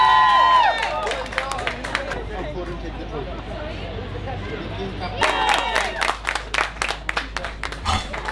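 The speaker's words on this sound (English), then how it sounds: "Please, can you give them a round of applause?" Crowd applause and cheering for a team at an outdoor boat race event, starting with a cheer, easing into scattered murmur, then swelling again with dense clapping and whistles, fairly close and loud.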